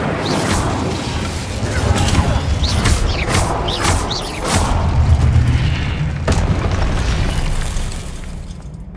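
The Incendio fire spell in Hogwarts Legacy is cast amid combat, with loud booming bursts and crackling whooshes over a steady dense rumble, several sharp impacts repeating across the fight.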